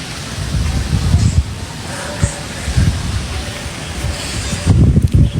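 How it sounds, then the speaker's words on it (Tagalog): Cool, fresh outdoor wind buffets the microphone in gusty low rumbles that swell and ease, loud and close throughout. "Sobrang presko ng hangin."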